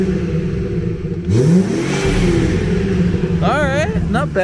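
A 2017 BMW 340xi with a replaced downpipe and open exhaust flaps, heard close and loud as the engine revs up in a rising surge with a brief whine at the end, and a voice speaks over it.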